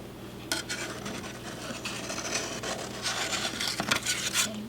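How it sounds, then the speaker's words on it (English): A knife scraped around the inside wall of a springform pan holding an orange creamsicle cheesecake, giving soft close rubbing and scraping strokes with a few sharper metallic ticks, no talking. "run your knife along the sides just to make sure it's released"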